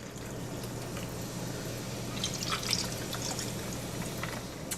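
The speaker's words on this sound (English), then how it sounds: "we're going to top them off with some club soda." Club soda poured over ice into mojito glasses made with white rum, a steady close fizzing, trickling wash with a few brighter splashes midway, no talking.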